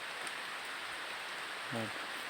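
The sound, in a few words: rain falling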